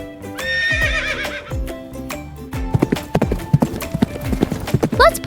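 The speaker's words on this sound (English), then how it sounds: "The missing animal is a horse!" A horse whinnies loudly near the start, then its hooves clip-clop in a quick, uneven rhythm over a musical backing, part of a toddler farm-animal sound lesson.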